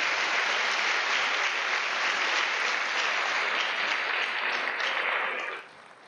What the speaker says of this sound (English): give all of our faculty, our staff, and our administrators within Hamilton County Schools another round of applause